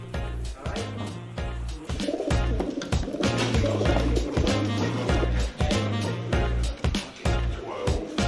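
Racing pigeons at a pigeon racing clubhouse coo steadily in a low, throaty rhythm, with constant fluttering and shuffling noises around them, close and busy.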